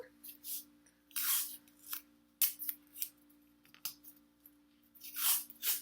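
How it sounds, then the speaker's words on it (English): Green paper being torn and pulled apart by hand for a kids' Olympic rings craft, heard as short, close, crisp rips in irregular bursts separated by quiet pauses. "So I rip and pull."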